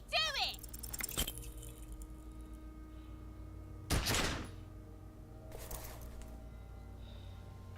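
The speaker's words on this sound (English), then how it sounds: "You hear an explosion within the weapon in your hands." A gunshot in the video game Disco Elysium rings out as a sharp loud crack with a trailing echo. It comes among other sharp impacts and clatters, with a tonal hum underneath.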